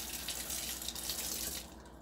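Tap water runs steadily for about two seconds while a tablespoon of water is measured out for brownie batter in a home kitchen, a close, continuous splashing hiss with no talk over it.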